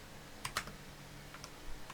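A computer keyboard is used to type an ipconfig command, giving a few quiet, scattered keystroke clicks over a faint background hum with no talking.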